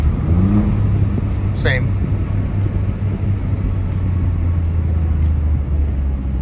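Alfa Romeo Giulia Quadrifoglio fitted with a carbon fiber intake, driven slowly through a neighborhood at night. A steady, loud low engine rumble runs throughout with a brief rev change early on, and a voice speaks briefly.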